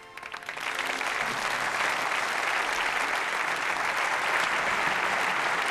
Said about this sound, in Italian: L'applauso è per il nostro di De Santis che ha firmato il servizio